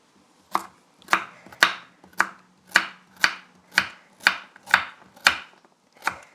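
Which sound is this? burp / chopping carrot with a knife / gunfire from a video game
chopping carrot with a knife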